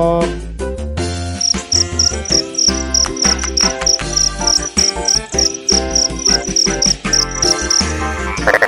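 Rapid, steady cricket chirps run through a bright children's song, sitting high above busy music with a loud rhythmic backing throughout.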